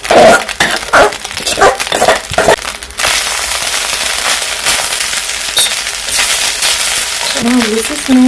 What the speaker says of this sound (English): I'm going to add in just a dash of oil to give it a little moisture. Now it's cooking.